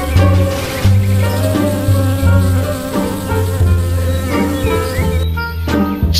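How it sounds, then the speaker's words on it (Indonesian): A wasp buzzes loudly and close, a steady droning whine that holds for several seconds and shifts slightly in pitch. "ternyata ini tawon pespa teman-teman"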